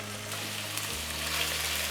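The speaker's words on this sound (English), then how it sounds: "So I'll start by frying the chicken." Chicken pieces stir-fry over high heat in a hot pan, giving a steady, even hiss of sizzling oil over a low hum, close and unbroken throughout.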